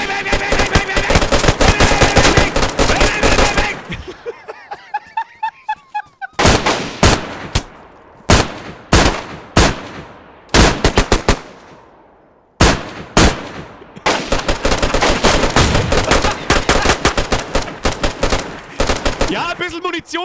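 Loud, close automatic gunfire in DayZ is shot into the air in long rattling bursts and rapid single shots, with brief pauses and echoing tails between volleys.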